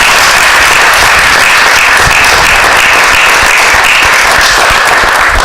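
A school committee meeting audience gives a round of applause, a dense, loud and sustained wash of clapping from many hands.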